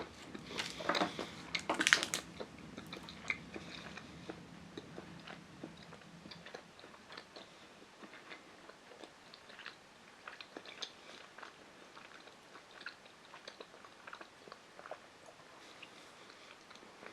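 Crunchy bites into a piece of María Tepoztlán milk chocolate, loudest in the first couple of seconds, followed by quieter, irregular chewing that goes on close to the mouth with no talk.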